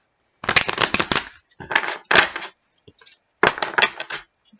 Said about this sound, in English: so we'll shuffle one last time